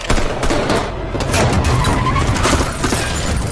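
Gunfire in an action film scene about a sniper attacking police, a loud continuous barrage of shots and crashing impacts filling the whole stretch with no pauses.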